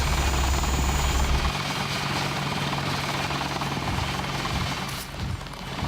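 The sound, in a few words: helicopter flying away in Deus Ex video game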